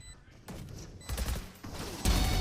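Gunfire in the Valorant video game during a pro esports match: bursts of rapid shots, building in loudness in steps through the clip, with no clear talk.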